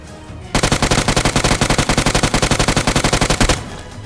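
A sustained burst of automatic M4 rifle fire in PUBG, loud and close, with rapid evenly spaced shots running unbroken for about three seconds before cutting off.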